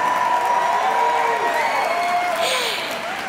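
Audience applause from a crowd at a health talk, steady clapping mixed with a few cheers that fades slightly toward the end.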